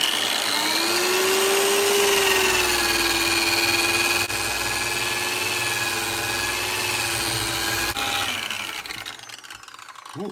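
A Parkside floor and wall sander with 120-grit paper sands raw wood, giving a loud, steady motor whine with a rough abrasive hiss that winds down near the end.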